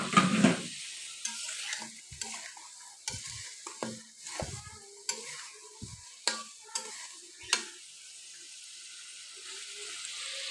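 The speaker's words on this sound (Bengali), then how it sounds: "এখন এতে দিয়ে দিব আগে থেকে ভেজে রাখা মাছের মাথাগুলো, দিয়ে একটু ভালোভাবে কষিয়ে নেব।" Pre-fried fish heads are sautéed in a pan for a mung dal muri ghonto, with irregular scraping and stirring knocks over a soft, intermittent sizzle that fades toward the end.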